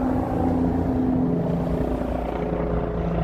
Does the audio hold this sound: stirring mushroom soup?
no